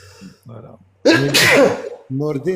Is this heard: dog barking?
no